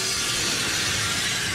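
Steam locomotives running bunker first hauling wagons on the Astley Green and Walkden Railway give a loud, continuous broadband hiss and rumble, close and unbroken.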